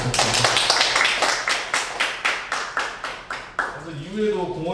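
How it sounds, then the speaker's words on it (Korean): Sustained applause from an audience at a community park-planning workshop, steady clapping that fades out near the end as a voice begins speaking. "다시 한번 박수 한번 부탁드립니다"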